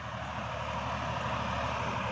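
A steady, low engine drone with a continuous rumble and throb, consistent with an Indo Farm tractor engine running, holds at an even loudness throughout with no speech over it.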